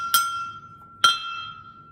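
A glass gives two bright clinking strikes about a second apart, each leaving a sustained pure ring that hangs and slowly fades, up close and otherwise quiet.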